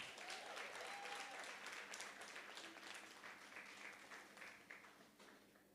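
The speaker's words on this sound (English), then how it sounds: "Another round of applause, please." An audience at a women's brunch applauds the panelists, a sustained, even round of clapping that gradually softens toward the end.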